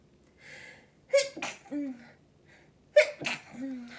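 Two sneezes, each starting with a sharp inhaled gasp before the burst, a couple of seconds apart, close and fairly loud.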